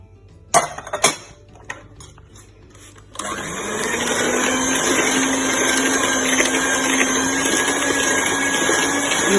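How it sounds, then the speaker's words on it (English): An electric mixer creams butter with brown and white sugar, starting after a few clinks and knocks and then running as a loud, steady whir to the end. "So we're going to cream both the brown sugar and the white sugar with the butter."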